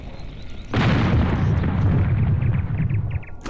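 A cannon fires cannonballs in the airship battle game Air Buccaneers, one loud close boom that rumbles on for a few seconds before fading.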